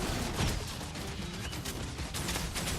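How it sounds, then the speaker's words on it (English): A Ranger's barrage attack in Guild Wars 2 pounds down as a rapid volley of sharp, overlapping impacts, a dense crackling bombardment with a few louder hits standing out, moderately loud throughout. "Let's do a barrage on these guys."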